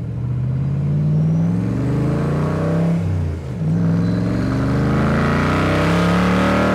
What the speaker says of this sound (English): get this baby up on the expressway and crack that throttle open and she will fly